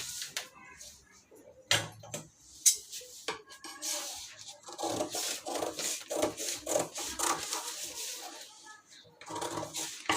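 Scissors cut through blouse fabric in repeated close crisp snips and rasping strokes, with brief pauses and handling noise between cuts, and no talking.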